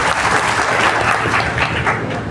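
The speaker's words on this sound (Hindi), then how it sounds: "तालियां बचा के रखो।" An audience claps during a Hindi speech in India: dense, steady, loud applause filling the whole moment without a break, with no voice rising above it.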